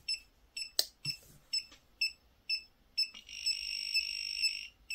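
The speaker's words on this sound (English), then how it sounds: "So the beeping is for the fuse finder." A PeakTech P 3432 fuse finder beeps in short regular bursts at close range, then sounds a longer continuous tone, with a brief clunk of handling and no talk.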